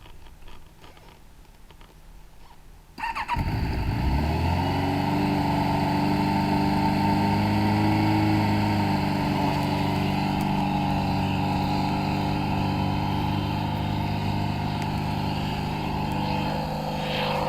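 A Kawasaki ZRX1100 C2 motorcycle fires up after a few seconds of quiet and settles into a steady, loud idle, its engine running close by and alone for the rest of the clip.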